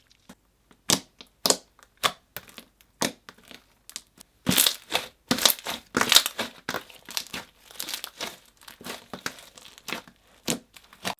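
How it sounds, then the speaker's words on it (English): Clicky white glue slime is squished and worked by hand, giving a string of sharp, close crackling clicks and pops in irregular bursts, alone and fairly loud. "the slime ended up looking like a white glue slime, but it was so clicky"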